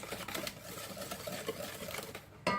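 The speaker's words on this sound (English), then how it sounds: "Give that a whisk." An egg is whisked into peanut butter chocolate chip banana bread batter in a bowl, giving quick steady clicking strokes at close range for a couple of seconds.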